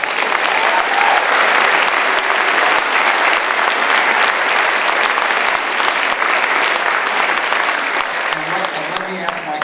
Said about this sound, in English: let me ask my community to not have applause between speakers